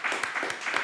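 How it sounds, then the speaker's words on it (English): Brief burst of audience applause on a podcast set, a few hands clapping in quick uneven rhythm, close and moderately loud, with a voice faintly mixed in. "Clap it up for that."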